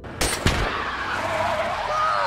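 In an action film, two sharp gunshots hit a passing car's tire, followed by a long, loud tire skid that screeches on close and steady.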